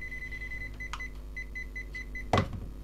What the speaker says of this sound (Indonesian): Kalau kabelnya ada listriknya, akan bunyi bip banyak kayak gitu.